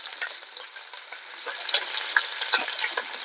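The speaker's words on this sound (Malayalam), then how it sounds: "ഇത്രയും ചേർത്തിട്ട് ഒന്ന് വഴറ്റാം കേട്ടോ" Onion, garlic, green chili and curry leaves sauté in a hot pan for a Malayalam-style ivy gourd thoran, giving a loud, steady sizzle with scattered crackles and spoon scrapes throughout, without talk.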